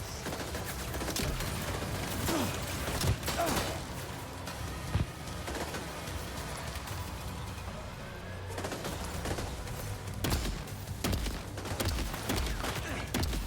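Grenade explosions and gunfire in Death Stranding 2, heard as repeated sharp blasts and bursts scattered over a busy, loud combat background, some hits standing out as sudden thumps.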